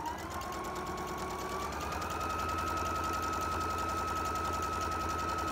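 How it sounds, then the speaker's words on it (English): A sewing machine runs steadily stitching quarter-inch seams on flying geese quilt blocks, a continuous close mechanical whir with a rapid even needle rhythm and a faint rising motor hum throughout. "I'm gonna sew a quarter inch away on the other side of the line"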